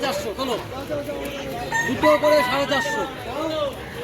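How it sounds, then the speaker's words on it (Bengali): Chickens cluck and a rooster crows amid the steady din of a crowded duck and chicken market, with voices murmuring in the background. "তো এই হচ্ছে হাঁস মুরগির হাট"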